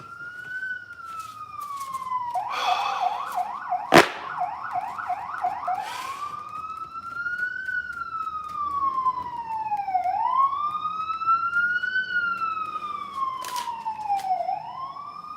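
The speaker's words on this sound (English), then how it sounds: "Let me wait till these ambulances go." Ambulance sirens pass close outside, a loud rising-and-falling wail with a rapid yelp burst early on and a sharp bang near the middle, sweeping continuously over low traffic rumble.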